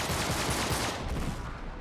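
Sustained burst of enemy gunfire from the Uncharted video game, a dense continuous rattle of rapid shots filling the full clip at steady loudness with no talk.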